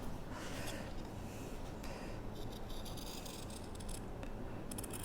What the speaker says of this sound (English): Get the big kahuna scissors out